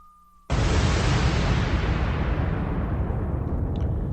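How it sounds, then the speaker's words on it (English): A bomb-drop explosion effect: after a short, faint whistling tone, one sudden loud blast bursts in and rolls on as a long, fading rumble. "bomb drop."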